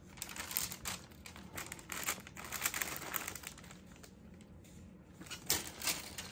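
Paper rustles and crinkles steadily as a Tiffany Air Force 1 1837 shoe is unwrapped from its box, a soft, continuous close-up crumpling that swells in places.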